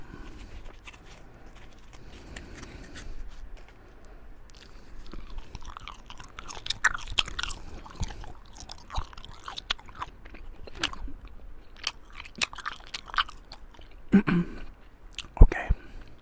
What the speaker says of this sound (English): while also chewing a piece of gum